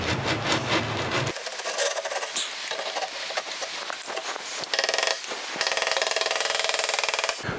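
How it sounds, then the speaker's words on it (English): Wooden side panel of a custom ready-to-assemble kitchen cabinet slid into a dovetail joint, giving a close, steady scraping rub of wood on wood, continuous with brief surges and no talk. "slide this into the dovetail as so, and go all the way to the front"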